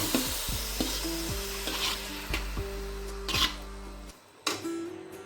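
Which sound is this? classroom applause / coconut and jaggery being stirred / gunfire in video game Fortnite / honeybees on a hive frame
coconut and jaggery being stirred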